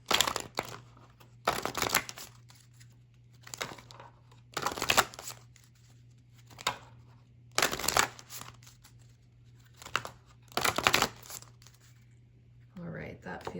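A deck of tarot cards is shuffled in about five bursts of papery riffling and crinkling, close and fairly loud, with quiet gaps between them over a low steady hum.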